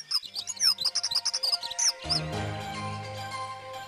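A dunnock gives a run of short, high chirps and trills, close and clear, before a louder, broader rush of background sound takes over for the last couple of seconds.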